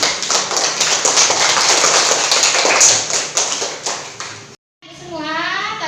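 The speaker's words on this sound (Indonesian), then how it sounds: "Tepuk tangan untuk kita semua." Schoolchildren in a classroom clap their hands together, a loud, dense burst of rapid claps that fades out, followed by a short silence and then a voice.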